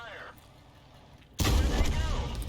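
A tank gun fires one shot in a tank combat video game, likely from a Pz.Sfl. IVb, a sudden loud booming blast that cuts in after quiet engine rumble and then rolls on as a heavy echoing report.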